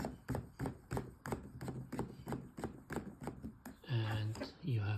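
Manfrotto 241BF suction cup camera mount being pumped, a rapid series of about a dozen sharp clicking strokes in even rhythm, followed by a voice speaking.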